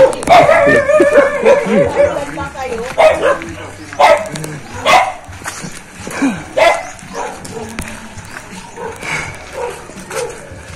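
Dogs bark repeatedly in irregular bursts along a rural path through farm fields, some barks louder and nearer than others, with occasional voices in the background.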